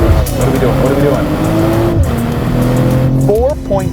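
A 2023 BMW M340i accelerates hard, its engine a loud, rising roar through the gears with shifts audible near the end, heard from inside the car while someone talks excitedly.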